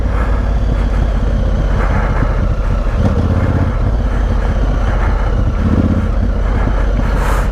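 A Honda Africa Twin CRF1000L motorcycle rides off-road along a muddy lane, its engine droning loudly and steadily up close with slight surges in the throttle and no talking.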